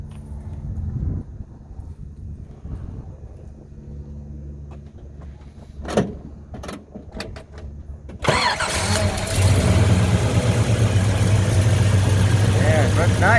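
A Chevrolet Chevelle SS convertible with a 454 V8 and four-speed cranks over and fires up around the eighth second, settling into a loud, steady, rumbling idle after some quieter handling noises and brief talk.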